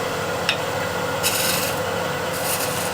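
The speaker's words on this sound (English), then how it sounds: "I will use the point of the scraper, and here I'll just use it lightly" A negative rake scraper is drawn lightly by its point across a wooden surface in a few short, soft rasping strokes against a steady background hum.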